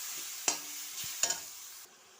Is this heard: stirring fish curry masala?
yes